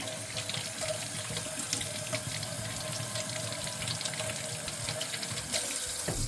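A kitchen tap runs steadily while mushroom stems are washed under it. The water gushes close and even the whole time, with faint splashes and clinks, and no one speaks.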